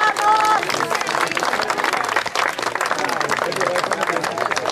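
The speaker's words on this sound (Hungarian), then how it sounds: "nagy tapsot kérünk!" A crowd applauds steadily at a sports award ceremony, clapping sustained and dense throughout, with an announcer's voice heard briefly at the start.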